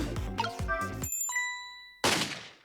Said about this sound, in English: Ring the bike bell?